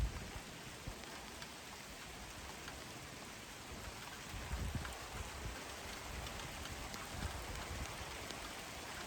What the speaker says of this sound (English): This is like camping. It just rains whenever you go camping.